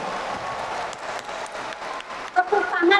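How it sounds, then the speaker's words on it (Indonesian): Audience applause at a speech event at Al-Zaytun, crowd clapping rising to louder, denser bursts near the end, with no voice over it. "Tepuk tangan buat Anda semua."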